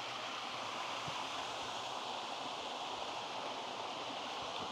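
Small waterfalls cascade in a continuous, even rush of white water, close and steady with no voices over it.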